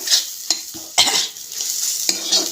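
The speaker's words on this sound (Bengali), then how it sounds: "আর একটু নাড়াচাড়া দিয়ে নেব" A spoon scrapes and stirs ground cumin and chili powder in a hot pan, with a few sharp clacks against the metal over a soft sizzle of frying oil.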